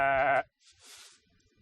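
A single close, loud sheep bleat, a short quavering call that stops abruptly, followed by faint outdoor background rustle.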